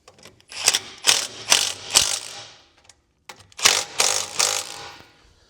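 Two bursts of rapid ratchet clicking as a ratchet tightens the two nuts on a Ford E-Series oil cooler line fitting, each burst made of several short pulls, close and clear with a brief pause between.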